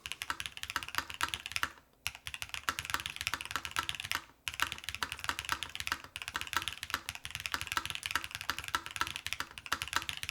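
Steady typing on a Lotus80 mechanical keyboard, dense close-up key clacks in a continuous rapid stream, broken by two short pauses, with no voices.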